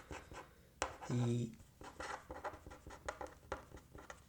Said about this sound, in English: so let me just write it down.